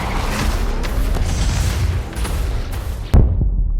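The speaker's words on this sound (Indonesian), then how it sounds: "Meledak." A loud boom as a collider control center blows up in a Spider-Man animated film, a sharp blast near the end rising out of dense rumbling action noise.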